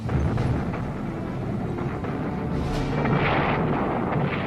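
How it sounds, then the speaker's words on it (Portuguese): German 88 mm anti-aircraft cannon fire from World War II: a dense, continuous roar of heavy booms and rumble that swells slightly toward the end, with no voices. "Os alemães no Monte Zillow disparavam com uma arma poderosa, um canhão de 88 milímetros."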